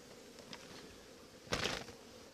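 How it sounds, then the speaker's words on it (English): Honey bees hum faintly around a queen breeder hive, a soft steady drone broken by one louder buzzing pass as a bee flies close. "This is a super duper breeder hive."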